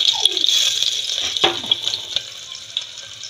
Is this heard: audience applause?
no